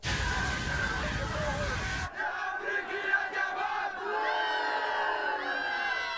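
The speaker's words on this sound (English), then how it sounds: "those boos don't hurt so much" A crowd in a played cartoon clip booing and jeering, a loud dense roar of many voices that cuts off abruptly and gives way to quieter layered crowd noise and babble.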